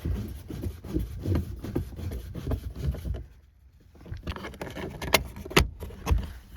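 A screw being worked out of a 2019-or-later Toyota RAV4 door panel during a speaker upgrade, with close scraping, ratcheting and rubbing clicks. A short lull is followed by a few sharper knocks and rattles.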